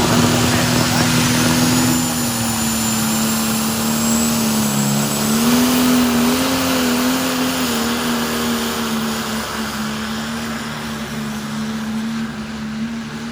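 A heavy pulling tractor engine runs loud and steady throughout, with a strong low drone that wavers in pitch as it revs, and a crowd or announcer murmur underneath.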